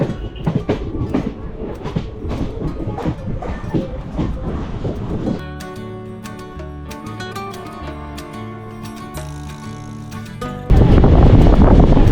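Passenger train running at speed between Shornur and Coimbatore, with loud rumble and clatter at first, a steadier tonal hum through the middle, then a sudden loud roar of wind and wheels near the end.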